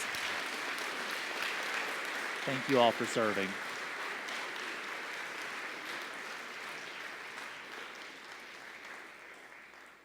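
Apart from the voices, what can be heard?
audience applause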